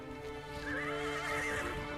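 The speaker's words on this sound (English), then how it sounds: "That exact sound effect of the horse neighing is used over and over." A horse gives a shrill, wavering neigh: a stock film sound effect with a thin, low-fidelity quality, heard alone for about two seconds.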